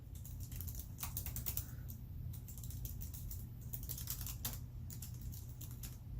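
Quick, light keystrokes on a MacBook laptop's scissor-switch keyboard patter in irregular bursts, soft and close, over a faint low background hum, with no talking.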